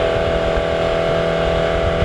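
Cupra car exhaust held at steady revs during a trackside noise test, a loud continuous engine drone with a strong tonal hum running unbroken throughout, no voices.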